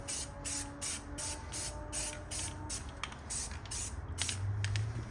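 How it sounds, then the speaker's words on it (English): Aerosol paint sprayed onto a BMW E90/E92 brake caliper bracket in a quick series of about ten short hissing bursts with a steady rhythm, close up, ending in a slightly longer burst. "let's go ahead and start painting this, guys. Now let's hit it."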